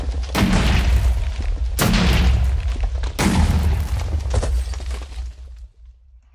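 Three loud, booming hunting rifle shots ring out in a modded Minecraft survival game, spaced evenly about a second and a half apart, each blast trailing off into a rumbling decay before fading to quiet.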